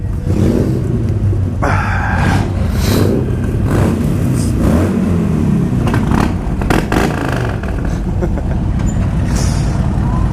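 Motorcycles ride out on the road toward a town, giving a continuous loud rumble of engines and wind noise with shifting revs throughout.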